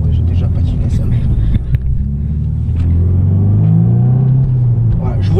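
Car engine accelerating as it pulls away, a loud close rumbling roar with rising engine tone, limited to 4000 rpm, while someone talks over it.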